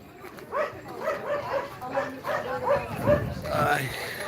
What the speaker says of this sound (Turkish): Bizim köpekler de burada.